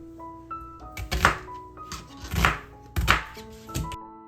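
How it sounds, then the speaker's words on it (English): A knife coarsely chops a halved yellow onion into big chunks on a cutting board, with a few loud, close thunks spaced about a second apart over a quiet background hum. "I'm just cutting it in half and then in big chunks"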